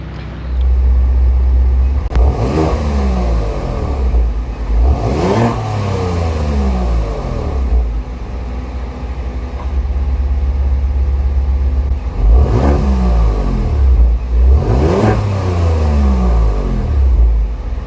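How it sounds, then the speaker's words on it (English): A 2023 Genesis G70 3.3T twin-turbo V6 with a variable exhaust revs four times from idle, each sharp climb peaking and then falling back to a deep, steady idle rumble, heard up close with no talking. "see how the engine sounds a little differently based on those 2 different driver settings"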